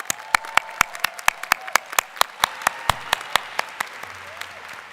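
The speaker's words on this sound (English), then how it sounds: "Please give a round of applause to this excellent class of 2024." An audience at a law school graduation convocation claps for the graduating class in distinct, evenly spaced sharp claps, close and crisp rather than a dense crowd roar, fading slightly over five seconds.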